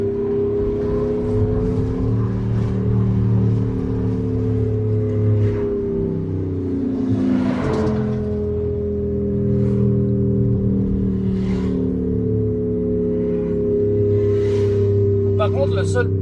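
Car fitted with an Active Sound Exhaust cruising under a steady droning engine note that swells as it revs, loud and close, with people talking over it inside the cabin.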